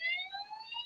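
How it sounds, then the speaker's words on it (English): An ambulance siren wails close by, a loud steady multi-tone electronic wail held through the short moment with no speech over it. "I've just got an ambulance."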